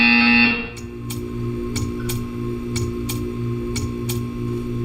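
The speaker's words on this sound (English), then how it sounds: "You will hear a buzzer." Repeated short electronic buzzer blasts from the Portal 2 video game, about seven evenly spaced bursts over a steady low hum, following a brief louder tone at the start.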